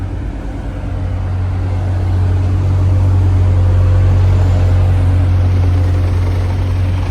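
A full-carbon KTM X-Bow GT drives along the Croisette in Cannes, its loud, steady engine drone swelling as it passes close by with no talk over it.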